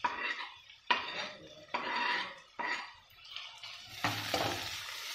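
Tomatoes tipped into onions already frying in oil in a metal pan, with repeated scraping and clattering of a spoon against the pan in bursts over a low sizzle, close and fairly loud, no talking.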